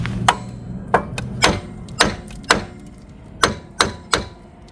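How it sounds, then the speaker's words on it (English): Hammer blows drive out a rear wheel hub during a car repair, eight sharp metallic strikes spaced roughly half a second apart, loud and close with faint ringing between hits. "So now we have to hammer this thing out"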